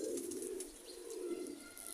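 A Sialkoti pigeon coos in a steady, low, throaty murmur that rises and falls continuously, close by, with no talking.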